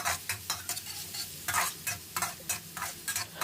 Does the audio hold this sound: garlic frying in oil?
yes